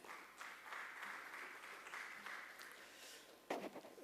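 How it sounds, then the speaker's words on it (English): Audience applause at the launch event for the Krystal Mumbai Warriors futsal team, a sustained wash of clapping from a crowd, fairly faint, ending in a brief louder burst. "Huge round of applause for him."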